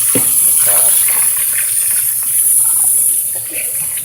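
Tap water gushes steadily into a cup being rinsed at a kitchen sink, a continuous close hiss and splash that eases slightly near the end.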